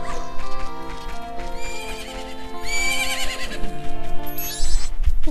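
A horse whinnies loudly with a rising, shaky neigh over a steady musical background in The Legend of Zelda: Majora's Mask, followed by hoof clip-clops near the end.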